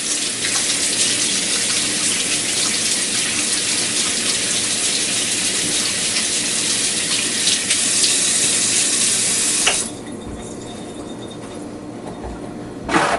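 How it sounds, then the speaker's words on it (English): Hands being washed under a strong running kitchen tap, a loud continuous gush of water for about ten seconds that then drops to a quieter trickle before stopping. "So I'll give my hands a quick wash."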